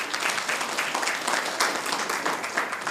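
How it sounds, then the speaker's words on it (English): Steady, loud audience applause fills a hall at a social development partnership summit, dense and continuous throughout. "Let's give him a round of applause."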